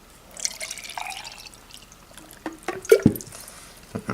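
Water is poured into a glass for preparing an MRE meal, heard as scattered close drips and splashes that swell into a brief louder pour near the end, with no talking.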